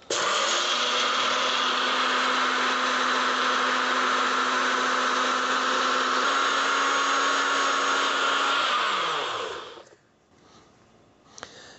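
Vita Bullet blender with a milling blade grinding to a fine powder, a loud, steady whirring motor roar held for about nine seconds before winding down and cutting off, leaving faint handling sounds.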